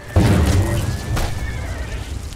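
In the video game Oblivion, the horse Shadowmere lets out a loud, close whinny that trails into snorting and rumbling breaths, with a faint hoof clatter at the start.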